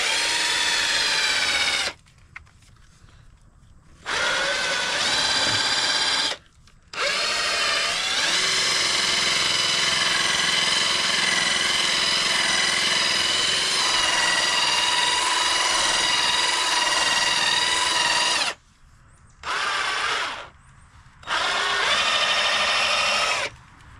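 Whining power polisher working on the wheels of a 1996 Dodge Viper GTS, loud and close, running in several long stretches broken by brief pauses, its pitch wavering with pressure on the metal.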